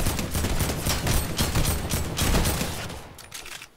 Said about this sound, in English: That is what a rifle does.